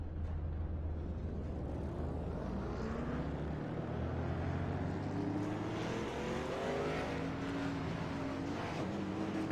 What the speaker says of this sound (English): And now the drivers are rolling off behind the pace car for their one and only pace lap here.